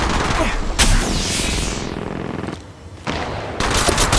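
Loud, dense gunfire in the mobile shooter Apex Legends Mobile, rapid bursts of automatic shots with booming impacts, nearly continuous with a brief lull before firing resumes.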